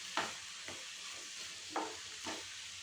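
Ivy gourd (kundru) fries quietly in a pan on a low flame, with a soft hiss and four brief scraping stirs.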